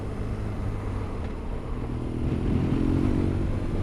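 An old BMW R1200GS Adventure motorcycle on the move, a steady droning engine with rushing road and wind noise that swells slightly louder partway through, with no talk.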